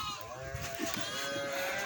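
Several lambs bleating on a farm, overlapping high, wavering cries close by, with a person's voice and other livestock sounds mixed in.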